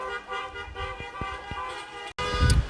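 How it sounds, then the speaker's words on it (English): Car horns honk during a street protest, a long sustained blare with a few short taps, then an abrupt cut to louder, rumbling street noise at the end. "There are a lot of people honking their horns."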